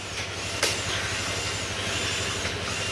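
A Skygo Click160 clone scooter that others had given up on for not starting catches after repair and runs, its engine holding a steady low idle with a brief rise at the start.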